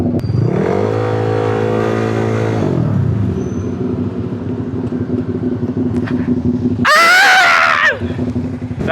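Honda Click 185 and Yamaha Aerox scooters riding on a Tagaytay road, engines revving up and settling into a steady drone, then another scooter roars past loudly near the end.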